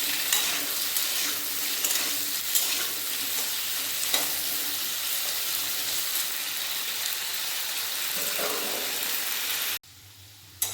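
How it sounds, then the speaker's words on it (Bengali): Gathi kochu (taro) frying with salt in a pan gives a steady, close, dense sizzle with faint stirring scrapes, continuous for nearly ten seconds before cutting off abruptly. "লবণ দিয়ে দেবো, ভালোভাবে ভেজে নেব"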